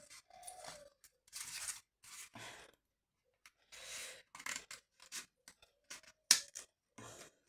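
Scissors make a series of short, crisp snips as they cut away thin glue threads on a handmade decoration. The cuts come in close, irregular bursts with quiet gaps between them, and no one speaks.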